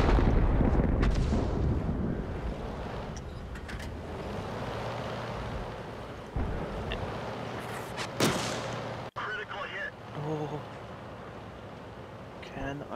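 Tank cannons fire in World of Tanks, with a heavy booming blast at the start followed by rumbling battlefield noise and a few sharper cracks, while a person talks over part of it.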